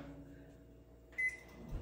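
A microwave oven running, a low steady hum with a short electronic beep near the end, quiet and without talk.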